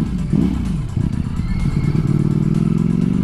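A 2020 Ducati Streetfighter V4 motorcycle engine revs and burbles loudly up close while riding through a village, the throttle rising and falling with a rough, throaty rumble.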